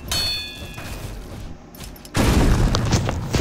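A gunshot in the Roblox video game, a sudden loud boom that cuts in and hangs as a heavy, sustained blast over the game's background noise, with no voices over it.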